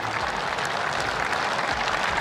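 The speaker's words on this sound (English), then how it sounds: "Huge round of applause" Loud, dense applause from a large audience at an AFL legends tribute to Eddie Betts, a steady unbroken wash of many hands clapping together with no voices on top.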